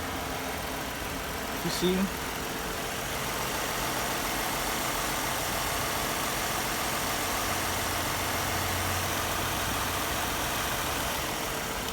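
A Ford Mustang engine under rebuild idles steadily and evenly in the background, with a brief louder knock near the start and a person speaking briefly.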